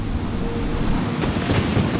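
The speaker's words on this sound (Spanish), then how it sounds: "El viento se vuelve más fresco, el mar se encrespa." Rough open sea churns under a freshening wind during tropical storm season, giving a dense, steady roar of surf and gusts with occasional louder wave surges and no voices.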